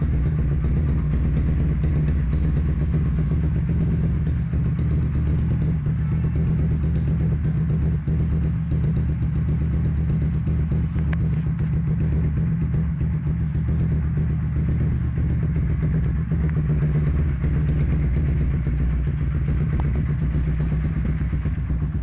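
A TVS Apache RTR 180 motorcycle with an Akrapovic aftermarket exhaust idles steadily nearby, giving a deep, bassy rumble that holds unbroken throughout.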